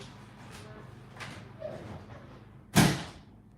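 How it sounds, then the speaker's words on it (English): A door is pushed shut indoors, faint rustling and shuffling leading into a single solid thud of the door closing, near and moderately loud, no talk. "Let me close the door."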